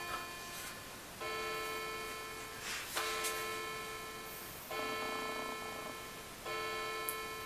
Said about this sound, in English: I just have to wait for the clock to stop.